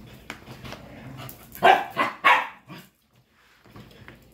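A dog barks several times close by in a kitchen while chicken and rice are mixed into dog food, loud yelping barks in a quick burst with softer whimpers around them.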